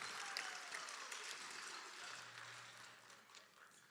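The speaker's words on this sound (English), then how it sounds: "big round of applause for this group" An audience claps for a group at a college signing day event, with steady broadband applause fading gradually over several seconds, heard alone without speech.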